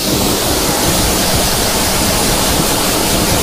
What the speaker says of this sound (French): On rince directement avec de l'eau.